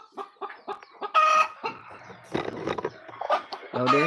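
Chickens on a farm cluck in quick repeated bursts close by, with a few louder squawks breaking in. A person speaks under the birds.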